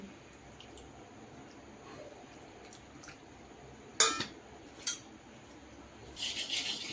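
A little water is poured into a rice flour and cornflour spice batter for chana koliwada, a brief soft trickling near the end after a few sharp utensil clinks in a quiet kitchen.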